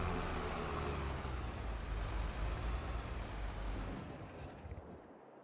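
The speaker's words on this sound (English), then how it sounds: "Just move this tractor out of the way in case Wee Man needed to come through." A tractor in Farming Simulator 22 drives with a steady, rumbling diesel engine drone that runs loud throughout and eases off slightly at the end.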